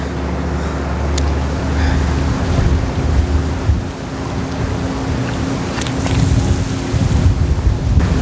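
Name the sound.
strong wind blowing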